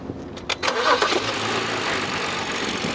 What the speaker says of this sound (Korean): 자, 똑같은 조건으로 한번 공회전 한번 해볼게요.